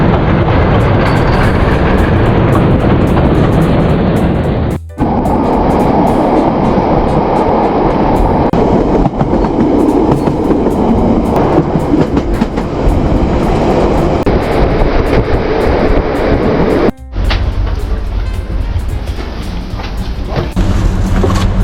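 A century-old train car on a cliffside line rumbles steadily along the rails with a loud, continuous roar and rattling, briefly dipping twice as if passing through gaps.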